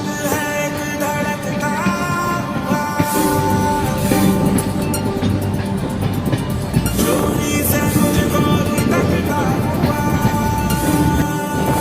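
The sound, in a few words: Kanchanjunga Express train crossing a bridge in Assam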